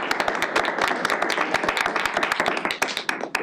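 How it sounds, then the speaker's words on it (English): Audience clapping at a board of health meeting: a smallish group's crisp, uneven claps, steady for a few seconds, then thinning out toward the end, with no talk over it. "Let's give her a round of applause."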